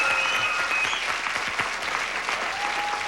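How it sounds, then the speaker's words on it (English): A television game show studio audience applauds a group of ten policemen contestants, a dense, steady wash of many hands clapping at once, loud and close throughout with no voices over it. "I just want to give these guys a nice round of applause."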